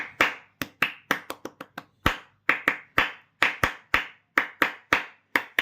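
Hands clap at home in about twenty sharp, close, separate claps that come in irregular bursts, some quick and some spaced apart, with quiet gaps between them.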